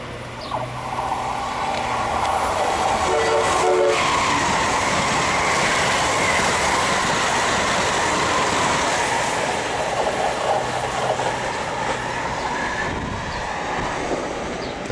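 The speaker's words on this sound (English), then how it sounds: "That's Amtrak's version of the bullet train." An Amtrak Acela high-speed train roars past nearby in Maryland, a loud steady rush of wheels and wind with rhythmic clacking and faint squeals, filling the whole stretch.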